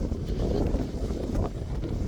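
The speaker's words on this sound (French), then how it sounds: "La tempête." Strong storm wind roars and buffets the microphone in a steady, low rumble with gusty surges, and no voices.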